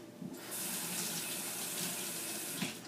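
Tap water gushes over the parts of a veggie spiralizer being rinsed at a sink, starting after a brief clatter and running as a close, steady splashing stream.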